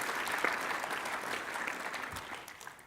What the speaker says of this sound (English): applause for Mrs. Lindström